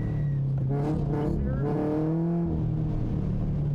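A drift car braking hard and working through a tight cone setup, its engine droning loudly and steadily with shifting revs throughout, and a voice talking over the engine noise.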